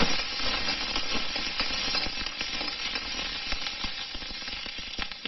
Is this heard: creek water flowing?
no